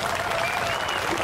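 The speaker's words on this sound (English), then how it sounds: "I think that deserves another round of applause" Applause from a crowd at an outdoor Tax Day Tea Party rally in Northeast Arkansas, loud dense clapping, steady throughout and close, with some voices mixed in.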